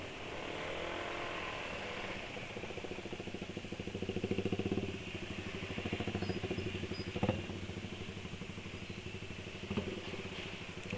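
Four-cylinder motorcycle engine with a modified exhaust idling steadily, a low rapid throbbing pulse with a few small revs and clanks, moderately close but fairly quiet.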